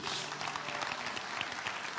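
Indonesian church congregation applauding during a sermon, a steady dense patter of clapping at moderate level with a low hum beneath.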